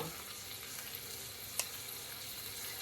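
Bacon fries in a pot, its sizzle rendering grease as a steady, soft crackling hiss that runs throughout, with one brief sharper pop partway through.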